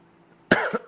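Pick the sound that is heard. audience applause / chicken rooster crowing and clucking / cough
cough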